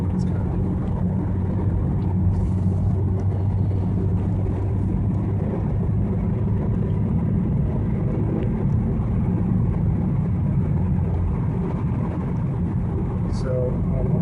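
Steady, muffled hum of a 2013 BMW ActiveHybrid 3 driving over a hill, heard from inside the cabin as a constant low drone with road noise, while a person talks over it.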